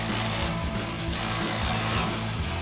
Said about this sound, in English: we'll come in with our provided Allen wrench and a 10mm socket